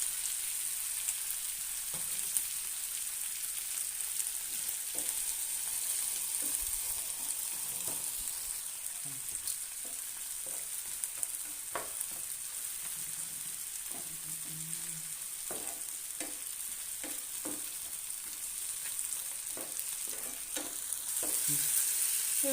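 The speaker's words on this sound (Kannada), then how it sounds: "ಟೊಮೆಟೊ ಒಂದು ಸ್ವಲ್ಪ ಫ್ರೈ ಆದಮೇಲೆ ಸ್ವಲ್ಪ ಉಪ್ಪು ಹಾಕ್ತೀನಿ." Tomato frying in a pan, a soft continuous sizzle with scattered scrapes and taps from a spoon stirring it, close but low in volume, with no talking.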